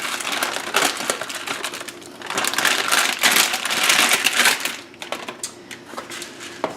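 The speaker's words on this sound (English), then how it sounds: "Cut open the steel cut oats, and I just dump it," A whole bag of steel cut oats poured into a bowl over cinnamon, a steady crinkly rattling rush of grains with plastic crackle, tapering into sparse ticks; no talking.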